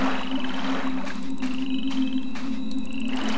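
Frogs croak steadily in a swamp level of the video game Mask of Eternity, a dense chorus of repeated croaks layered over a constant droning tone, with no voices.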